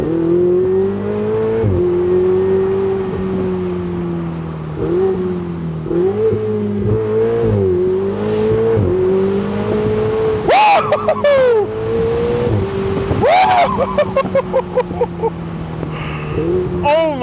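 A Ferrari 488 Spider drives on the road, its engine droning steadily, then surging through hard revving accelerations with rising pitch sweeps and quick gear-change crackles, loud and close; someone talks over the early cruising.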